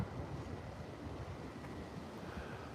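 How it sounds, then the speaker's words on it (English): Steady wind gusting and rumbling against the microphone, a continuous low roar with no voices. "it's windy right now"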